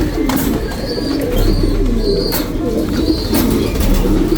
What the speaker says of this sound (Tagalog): Sa ice pigeon yan. Yan. Naka-pair siya sa De Bruxelles. Racing pigeon to.